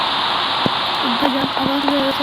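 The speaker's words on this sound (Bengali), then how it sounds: "আবার বৃষ্টি, এখন বেশি গরম নাই, বৃষ্টির ভিতরে খেলতে হবে" Steady rain in the video game Minecraft, a dense, even hiss that runs through the whole stretch, with a faint voice-like tone rising over it near the end.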